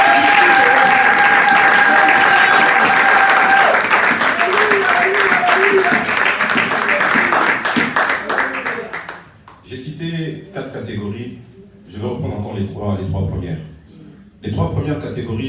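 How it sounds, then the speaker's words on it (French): A French-speaking church congregation at a Sunday service breaks into loud, sustained applause, which fades after several seconds as a voice starts speaking. "Est-ce qu'on peut acclamer le Seigneur?"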